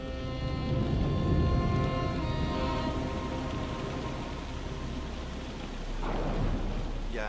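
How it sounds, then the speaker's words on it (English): Thunderstorm with heavy rain: a dense, steady downpour with deep rolling thunder, loud up close and fading slightly before another rumble swells near the end. "A huge storm breaks out."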